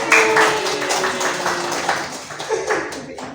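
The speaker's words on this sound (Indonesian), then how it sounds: "Bagus, Mas Isha, tepuk tangan." Students clapping in a high school classroom for a classmate, a brief scattered burst of hand claps with a few sharp taps, fairly close, fading over about three seconds.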